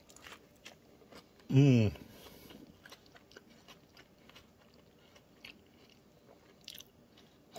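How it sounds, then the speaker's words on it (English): A single loud crunchy bite into a bacon-stuffed jalapeno popper seasoned with ghost pepper, close to the mic, followed by quieter chewing with a brief murmur of appreciation. "here's the bite of the jalapeno popper"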